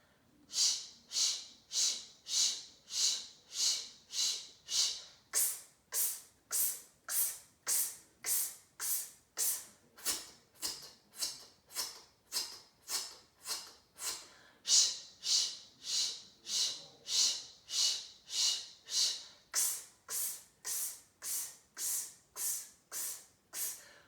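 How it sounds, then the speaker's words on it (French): Breathing during a diaphragm breathing exercise comes as a long series of quick, evenly spaced, hissing breaths through the nose and mouth, close and clear with no talking. "On continue à travailler cette respiration."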